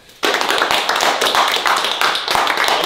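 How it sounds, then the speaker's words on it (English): A work crew claps and cheers in a garage after swapping a Raptor quad engine into an R6 build, a sudden burst of dense, close applause that starts abruptly and keeps going steadily to the end. "Round of applause, boys."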